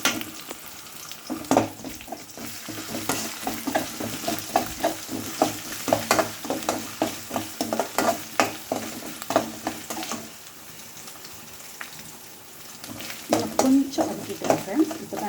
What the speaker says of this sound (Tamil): அதுக்காக வதக்கிக்கலாம்